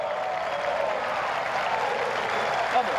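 Applause for a Malvinas war veteran at a football match, a dense continuous clapping from a crowd, steady and fairly distant throughout, with voices mixed in.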